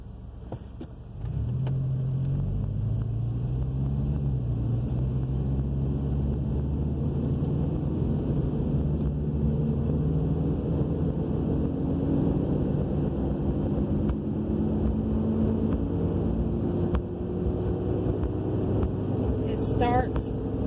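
A 2000 Subaru Legacy AWD with a suspected rubbing fault pulls away from a stop, its engine drone steady and up close inside the cabin, with a brief higher chirp near the end.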